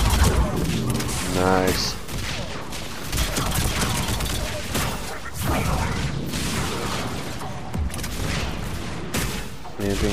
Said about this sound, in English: it's gotta be some Krogan artillery